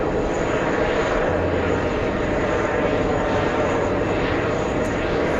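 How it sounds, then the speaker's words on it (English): An airliner departs on the Venice flight at an airport, its steady broadband engine roar sustained and loud throughout. "While we watch the Venice flight depart."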